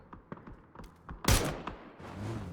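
Gunfire from a video game match, with scattered sharp shots and a louder close burst near the middle, followed by a rumbling tail in the background.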